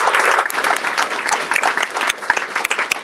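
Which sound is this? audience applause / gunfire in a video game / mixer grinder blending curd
audience applause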